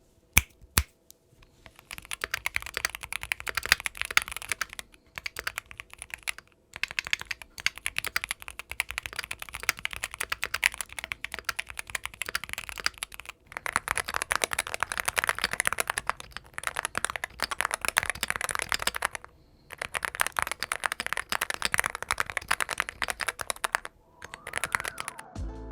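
Keys clack rapidly in bursts of typing on a mechanical keyboard, close and crisp, with short pauses between runs.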